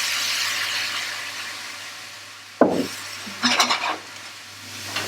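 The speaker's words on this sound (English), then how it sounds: "Now I'm going to hit it with a little red wine." Red wine hits a pan of caramelizing onions with a sudden loud sizzle over a steady frying hiss, then a few clinks and stirring scrapes as it settles.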